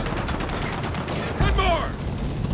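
Gunfire in the co-op campaign of the game Gears of War 4, aimed at bombs: dense, continuous rapid shooting and mechanical clatter fill the scene, with a voice speaking briefly over the din midway.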